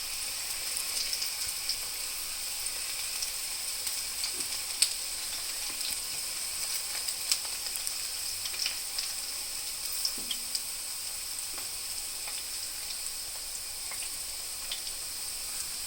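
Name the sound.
okra (ladies finger) frying in oil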